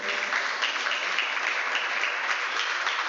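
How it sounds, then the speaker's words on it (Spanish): A congregation claps for the Lord during a church sermon, a steady dense burst of applause lasting a few seconds with little talk. "déle palmas al Señor"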